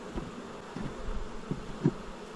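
Honey bees buzz around a small nucleus hive, a soft background hum with a few brief louder buzzes as single bees pass close, and no talk.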